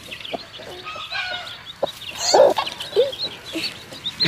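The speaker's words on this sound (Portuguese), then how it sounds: "Pintinhos começaram a nascer." A hen clucks softly among newly hatched chicks on a rural homestead in Ceará, Brazil, giving several short, close clucks with faint high chirps scattered through.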